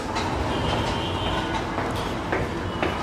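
An MRT train running through urban Manila near SM Megamall, heard as a faint, distant rumble and rolling rail noise with scattered clicks and clatter under a busy city wash, no talking.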